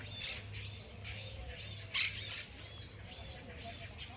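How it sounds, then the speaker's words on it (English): Several birds squawk and chirp outdoors in a steady run of calls, fairly close and moderately loud over a low background hum. "can you hear all the birds?"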